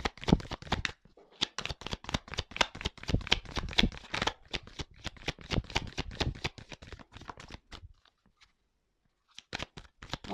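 Oracle or tarot cards are shuffled and drawn for a reading, giving a dense run of rapid, crisp papery riffles and slaps close by. A brief pause follows, then a few more card flicks, with no voices.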